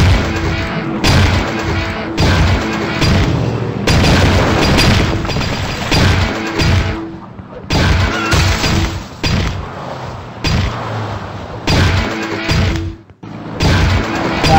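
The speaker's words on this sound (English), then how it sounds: "Well, I just punched to the rock." Loud, heavy booming impacts from punching a rock in a video game, arriving in dense bursts with short gaps between them, over a continuous backing of game music.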